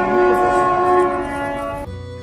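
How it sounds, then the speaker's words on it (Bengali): A train pulling into Bandel station sounds a loud, sustained horn-like tone for nearly two seconds, then it cuts off to a low rumble. "ট্রেন ঢুকলো ব্যান্ডেল স্টেশন"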